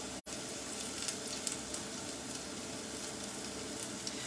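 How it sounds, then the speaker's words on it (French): Chopped onions and sweet chorizo frying together in a pan, giving a steady close sizzle with faint crackles and a brief stir, with no talking. "Il faut qu'ils soient un petit peu dorés de manière les oignons. Et puis après on va mettre le chorizo."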